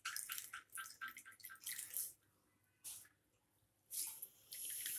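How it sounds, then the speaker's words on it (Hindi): Water splatters and drips as grated radish is squeezed by hand for stuffed mooli paratha, coming in a few wet bursts with quiet gaps between, close and fairly faint. "तो चलिए हम ऐसे ही सब मूली का पानी निकाल लेते हैं।"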